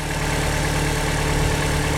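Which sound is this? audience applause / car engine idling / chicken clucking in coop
car engine idling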